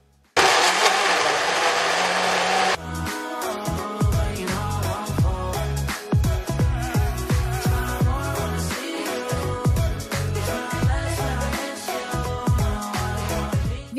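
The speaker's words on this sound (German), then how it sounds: "Das Ganze zudrehen und dann ab in den Mixer." A blender whirs loudly for about two seconds as it mixes coconut yogurt and oat milk, then gives way to a stretch of irregular knocks, clicks and rattles.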